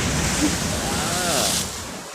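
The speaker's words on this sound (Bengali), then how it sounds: "বিশাল সমুদ্রের আসছে গর্জন শোনা যাইতেছে এই জায়গায়" Large sea waves roar along the shore as a loud, continuous broadband rush that eases slightly toward the end, heard close up in open air.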